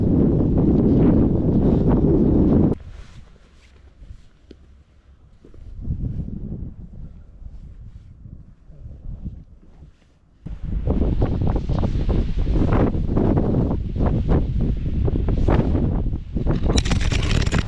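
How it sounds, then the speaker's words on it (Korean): Strong wind roars and buffets the microphone at a coastal geopark, heavy gusts at the start, easing to a lower rumble midway, then surging back loud and sustained. "바람이 장난 아니게 불구만"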